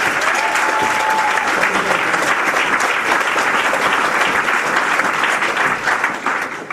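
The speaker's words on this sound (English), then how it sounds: "let's give a big round of applause for Dan Lads" Sustained applause from an audience at a BettaKultcha Leeds presentation evening, dense and steady clapping throughout, welcoming a speaker to the stage.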